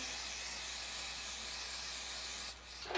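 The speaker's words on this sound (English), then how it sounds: "I'm gonna take some of my adhesive, spray them both down" A continuous aerosol spray of wig adhesive hisses steadily for about two and a half seconds, then cuts off, close and alone.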